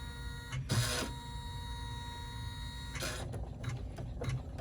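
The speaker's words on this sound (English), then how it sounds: "see how my machine likes to move around there?" An embroidery machine stitches a fabric wallet held in the hoop, its rapid mechanical whirring running steadily with louder clattering bursts as the hoop shifts, close by and without talking.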